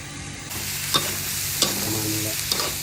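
Stir-frying a chili-free dish seasoned with salt and seasoning powder in a pan: a steady sizzle with periodic scraping stirs of the spatula, close and continuous without talk.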